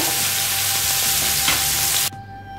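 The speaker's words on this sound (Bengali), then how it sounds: "একই তেলে ভেজে নিচ্ছি সামান্য একটু পেঁয়াজ একটু নরম নরম করে" Onion sizzles steadily in hot oil left over from frying potatoes, a dense continuous crackle that stops abruptly near the end, leaving only a faint hum.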